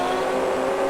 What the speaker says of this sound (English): The engine sounds of the other bikes is, well, they're certainly a lot better than yours.